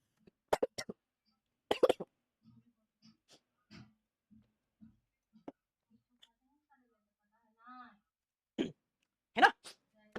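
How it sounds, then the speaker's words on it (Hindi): Several sharp coughs come in a fit, two loud bursts near the start and two more near the end, with quieter throat sounds and breaths in between. "बाप रे, इतनी खांसी आई है कि आंखों में आंसू आ गए"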